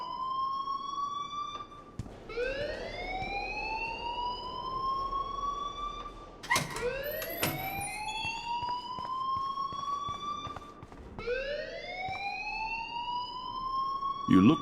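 A fire alarm sounds in the video game Life is Strange, repeated rising siren-like whoops that sweep upward in pitch, steady and prominent, with brief sharp hits between cycles.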